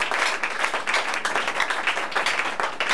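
A church congregation clapping for Jesus during a worship service, many hands beating in a fast, roughly rhythmic pattern, loud and close, with no talking over it.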